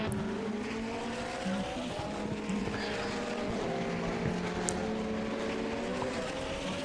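Race cars howling through chicanes in a sim racing endurance event at Le Mans, several engines overlapping with shifting pitches and faint tire squeal, continuous and fairly close.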